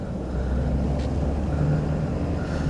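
A vehicle fitted with a Stedi STK2 curved 40.5-inch light bar drives up a road, giving a steady, loud engine and road rumble that runs on without a break and without any talk.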